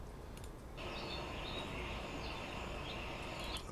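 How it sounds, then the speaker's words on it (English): Bird sound effect previewed in Unreal Engine 5, high chirping calls over a steady broadband hiss that begins abruptly after a short pause and runs continuously to the end. "It's birds."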